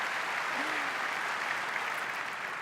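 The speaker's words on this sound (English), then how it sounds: "Let's give her a round of applause." Steady audience applause greets a colleague joining the presenter on stage at a Microsoft Inspire conference, a dense even patter of clapping that holds at one level throughout with no voices.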